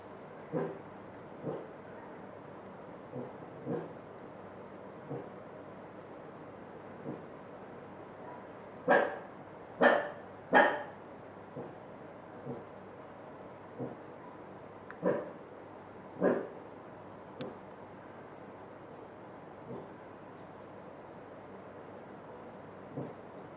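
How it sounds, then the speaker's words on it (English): A small dog yaps and barks in scattered bursts, mostly single sharp yips with a few quick clusters of louder barks, spread across a quiet indoor background with no talk. "I've got 4 dogs. This is the only one that yaps all day."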